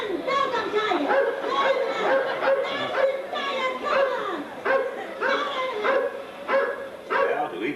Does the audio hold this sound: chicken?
no